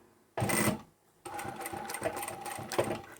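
A sewing machine stitches a pocket onto a fabric tote bag made from scrap fabric: a short burst of fast stitching, a brief pause, then a longer steady run of whirring stitches, close and clear.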